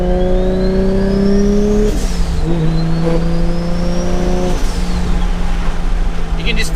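A Toyota Supra engine pulls hard under building turbo boost, its rising drone climbing in pitch, dropping sharply at two gear shifts, then climbing again, loud and continuous throughout.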